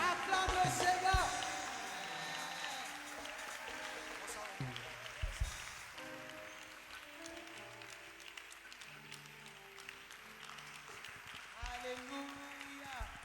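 A church congregation applauds and acclaims the Lord at a worship forum, with scattered clapping and cheers that start loud and thin out, while a preacher's voice and music carry over the crowd.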